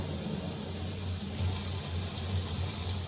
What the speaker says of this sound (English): Add water until it's full.